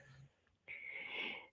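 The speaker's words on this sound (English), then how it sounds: "I can hear her snoring." A woman snoring through a badly blocked nose, a faint, thin wheezing and whistling breath that swells after a short quiet pause, heard close and alone.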